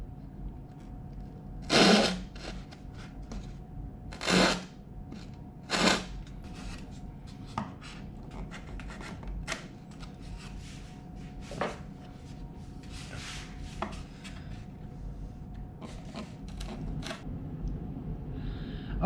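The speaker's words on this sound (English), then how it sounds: "with a chisel to remove the wood." A wood chisel paring out waste wood on a guitar body build, giving a few sharp, distinct strikes early on and then lighter scraping and tapping, close and alone without talk.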